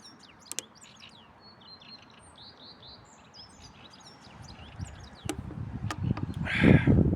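Birds twitter and chirp in short, thin calls a little distance away, joined toward the end by rising rustling noise and a few sharp knocks.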